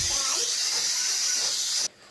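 A pressure cooker cooking dal for sambar lets out a loud, sustained steam whistle, a close hissing blast that stops abruptly after about two seconds.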